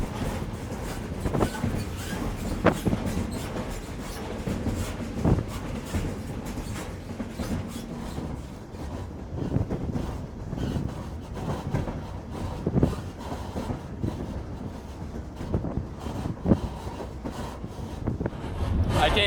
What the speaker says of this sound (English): last train ride in Mongolia for now